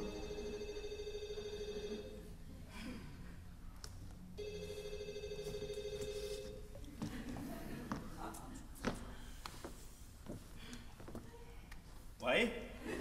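A mobile phone rings in a theatre audience, a repeating electronic ringtone that sounds twice in long bursts, with people talking and moving around it.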